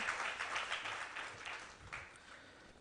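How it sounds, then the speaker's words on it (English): Applause from a large audience at a youth empowerment event, a faint and fairly distant patter of many hands that slowly tapers off and stays low throughout. "Shall we give the lovely lady a big round of applause?"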